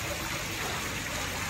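Water flows steadily into a clear koi fish pond, a continuous close gushing and trickling wash with no pauses.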